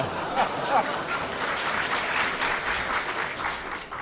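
A theatre audience at a comedy performance laughs and breaks into sustained applause, a dense steady clapping that carries on throughout and fades slightly at the end.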